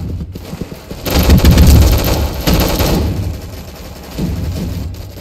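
Rapid automatic gunfire in a Roblox shooter game, dense loud bursts that rattle on for several seconds, ease off, then pick up again more quietly near the end.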